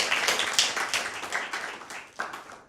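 Audience at a Christmas special Bible quiz on a Catholic television program gives a short round of clapping. The claps are faint, scattered and fading, with a few sharper hits that trail off toward the end.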